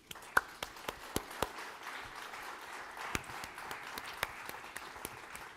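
Scattered claps from a conference audience, a few sharp distinct hand claps over a soft, steady bed of quiet applause, fairly faint and without talk.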